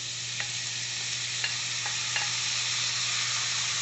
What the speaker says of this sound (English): Push them in, it'll start sizzling.